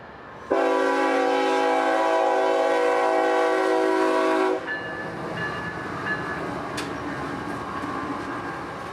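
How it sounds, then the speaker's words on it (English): Freight train B311's engines pass near Palm River in Central Florida, opening with a loud, sustained multi-tone horn blast for about four seconds, followed by rumbling locomotive and rail noise rolling by close at hand. "So back to Yeoman, the crew and engines would go, passing us near Palm River in the process."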